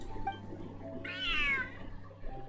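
An angry cat meows in the game Genshin Impact, one rising, drawn-out yowl at middle distance over a steady background of game music and ambience.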